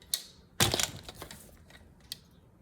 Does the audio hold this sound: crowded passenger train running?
no